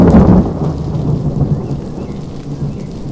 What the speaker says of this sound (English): there was a loud crash of thunder.